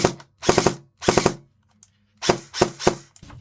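A Specna Arms X-Series FX 01 airsoft gun fires in short bursts of rapid mechanical clacks, several volleys separated by brief pauses, close and loud.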